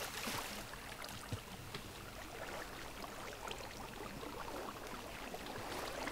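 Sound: boat moving on water in video game

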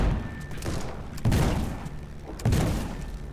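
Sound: spaceship cannons firing in a video game

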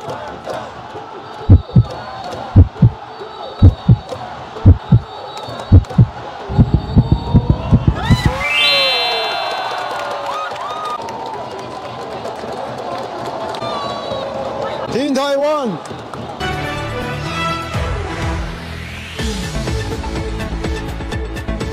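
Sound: fans cheering for Taiwan team in Taipei Dome

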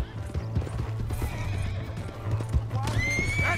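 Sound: horse galloping in video game Red Dead Redemption 2

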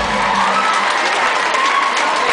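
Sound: concert crowd applauding and cheering

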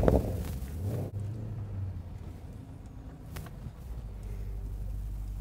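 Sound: 2016 Porsche Panamera GTS engine startup

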